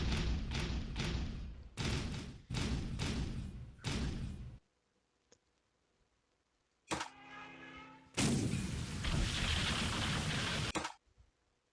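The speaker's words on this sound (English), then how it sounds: "Hit by 3 bombs, major fire." Bombs striking a ship in the Carrier Battles 4 Guadalcanal Battle of Midway wargame: four heavy rumbling blasts in quick succession, a pause, then a ringing metallic impact and a longer roaring explosion, loud and alone.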